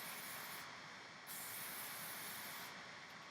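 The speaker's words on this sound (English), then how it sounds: "I'm just going to spray that all over my hair." Paul Mitchell Express Style hair product sprayed onto hair gives a faint, steady aerosol hiss that runs throughout, with a brief softening in the middle before resuming.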